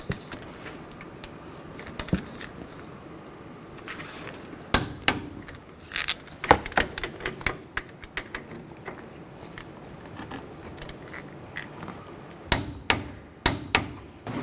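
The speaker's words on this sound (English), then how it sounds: "Now torque these bolts to 74 foot-pounds." A torque wrench tightens the front brake caliper bolts on a 2007 Chevy Silverado 1500 Classic, giving scattered sharp metallic clicks and clanks at close range, with small irregular clusters of ratcheting taps between quieter handling noise.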